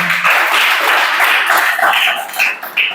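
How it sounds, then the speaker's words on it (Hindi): Classroom audience clapping on request, a brief burst of dense, scattered hand claps that thins out and trails off within a few seconds. "ताली बजाओ"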